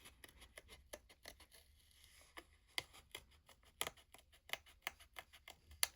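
Scissors snip out a stamped paper image for a floral journal page, a quick series of crisp close cuts with short pauses between bursts, over light paper rustling.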